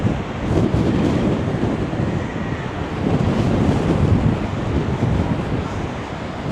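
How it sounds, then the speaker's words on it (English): Strong wind and rough sea along Blackpool promenade: a heavy, continuous rush of gusts buffeting the microphone over the churning surf, loud and unbroken, rising and falling slightly in waves. "It is pretty windy."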